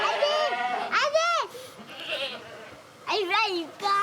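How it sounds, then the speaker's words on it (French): Goats bleating on a dairy farm as the herd heads out, several wavering, harmonic cries in quick succession with brief quieter gaps between them, close and loud. "On va pouvoir voir les chèvres qui vont partir"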